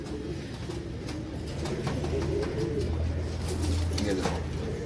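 Chandrakhani pigeons coo softly and repeatedly in low, rolling phrases, with some rustling and background noise around them.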